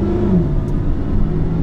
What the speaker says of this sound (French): On entend tout l'échappement qui est beaucoup plus libéré qu'aujourd'hui, parce qu'il n'y a pas de filtre à particules